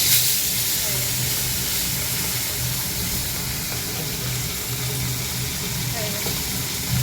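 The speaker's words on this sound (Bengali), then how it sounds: "মাছটা ভাজা হবে, এখন" Fish sizzling in hot oil in a pan on a home stove, a steady broadband hiss and crackle running throughout with a low hum underneath and faint voices in the background.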